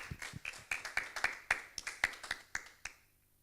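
A church congregation claps to acclaim the Lord in a short, sharp patter of about a dozen distinct claps in an uneven rhythm, fairly close, fading out after a few seconds.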